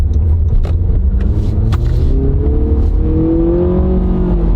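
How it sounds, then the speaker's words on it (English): A new Honda car engine with a CVT revs up, its pitch rising steadily over a deep continuous rumble, heard close from inside the vehicle. "Now you can hear the engine revving."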